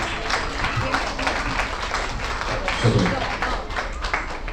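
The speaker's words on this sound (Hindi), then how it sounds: "जोरदार तालियां" Applause from an audience at a ceremony honouring a national MMA gold medallist, steady dense clapping filling the whole stretch at moderate loudness without a break.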